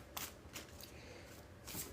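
Quick riffling bursts of a card deck being shuffled, three distinct shuffles with softer handling noise between them, close up.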